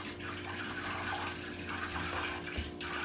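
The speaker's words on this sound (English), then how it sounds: "Last few seconds of boiling here, which is the water boiling off." Clarified butter bubbling and sputtering steadily in a pan on the stove as the last of its water boils off, a continuous close crackling hiss without speech.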